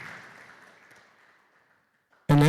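A church congregation's applause fades out over about a second and a half, trailing into near silence before a voice cuts in abruptly at the end.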